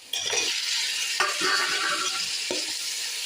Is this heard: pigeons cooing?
no